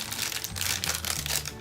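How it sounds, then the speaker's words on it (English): A plastic bag crinkles and rustles steadily up close as a Spigen Liquid Crystal case for a Galaxy S8 Plus is pulled out of it, a dense crackling texture with no voices. "let's remove the case from the plastic bag."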